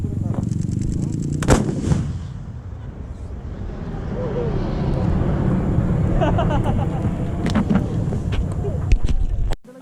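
A 155 mm cannon booms once during an Indonesian Army artillery firing drill in Aceh, loud and sharp, followed by rumbling echo, a few smaller cracks and shouting voices in the background.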